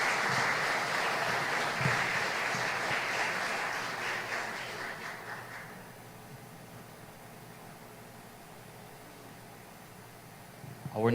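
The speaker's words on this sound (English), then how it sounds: "Another round of applause for Ms. Popkoa." Audience applause at a tribute ceremony for Belizean patriots, sustained clapping that fades after about six seconds into a quieter room hum, with a brief sound at the very end.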